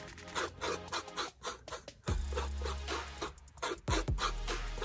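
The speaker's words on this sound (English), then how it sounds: "Like the scraping sound." Brush scraping across an acrylic painting in quick, dry rasping strokes, close and fairly soft, coming in short bursts with brief pauses and a low bump or two between them.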